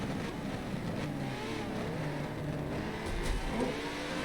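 LMP prototype race cars in a sim racing endurance event at Le Mans, engines droning and revving together in a steady, fairly quiet mechanical roar with no clear gear shifts or pass-bys, no talking.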